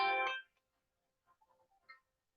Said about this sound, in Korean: 아, 전화가 왔네.